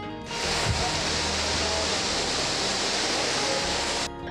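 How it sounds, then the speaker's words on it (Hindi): Bhagsu waterfall in McLeodganj, dropping about 20 metres, roars as a steady, loud, broadband rush of falling water that holds constant and then cuts off abruptly. "भागसू वाटरफॉल की अगर हाइट की बात करें तो लगभग 20 मीटर की हाइट से गिरता है"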